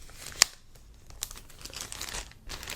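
A plastic bag filled with air is zipped shut, a sharp crinkling snap followed by soft plastic rustles and crinkles close up, quiet and intermittent with no talking.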